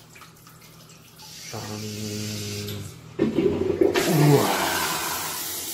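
A Kohler toilet fitted with a pump flushes loudly nearby: a motor-like hum starts, then a rushing, gurgling surge of water drains strongly, with a brief exclamation from a person partway through.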